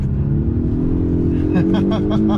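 Polestar 1 hybrid, a 326-horsepower front engine paired with electric rear axles, accelerating hard out of a corner with a loud steady engine drone building in pitch from inside the cabin.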